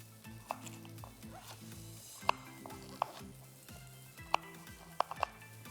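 Garlic and chilli frying in a pan for a Sri Lankan fish curry: a soft steady sizzle with regular stirring scrapes and several crisp clinks of a utensil against the pan, fairly quiet and close.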